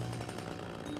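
A chainsaw from the Luigi's Mansion 3 video game drones in a steady, buzzing rattle with a low pulsing hum throughout. It plays alone at moderate loudness.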